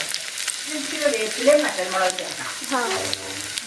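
Sliced shallots sizzle in hot oil after mustard seeds in a Kerala-style pan, giving a steady crackling fry that runs through the clip with a faint voice in the background.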